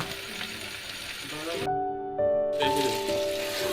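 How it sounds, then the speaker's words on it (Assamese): Chicken pieces frying in oil in a pan for an Assamese-style chicken curry, giving a steady close sizzle with a brief tonal, musical-sounding break in the middle. "মাংসখিনি প্ৰায় মই 30 মিনিটমান ভাজিম"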